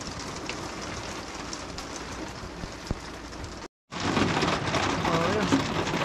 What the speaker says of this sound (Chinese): 这冰雹好像下得越来越大了。